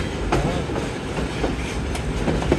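The Hazara Express pulls out of the station in hot weather, with steady rumbling rail noise and rhythmic wheel clatter over the joints, close and continuous.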